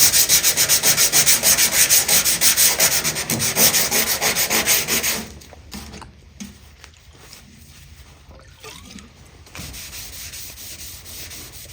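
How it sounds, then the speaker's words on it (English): Hand sanding works over the body of a 1964 Ford Galaxie, first in loud rapid rhythmic back-and-forth strokes close by, then easing into quieter, scattered rubbing and light scuffs. "rubbing, sanding, cleaning"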